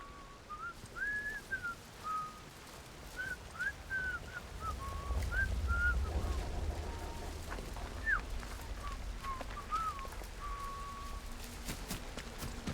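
An enemy in the video game Atomfall whistles a tune of short, chirpy rising and falling notes, repeated in bursts across several seconds over a low ambient rumble with faint background noise.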